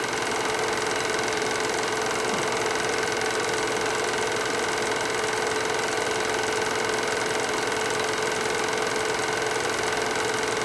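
A snowmobile engine runs steadily from a 1976 outing in snowy Wisconsin, a continuous buzzing drone with a faint knocking rhythm, holding a constant level for the whole stretch with no voices.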